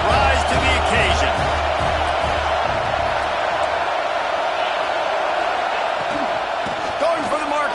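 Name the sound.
football stadium crowd noise on 4th down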